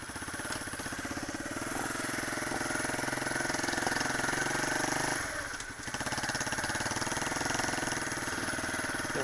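A car engine running during a cold-start drive, a steady close mechanical drone with a rapid pulsing rhythm, briefly dipping in level midway as if the revs change, then resuming its constant hum.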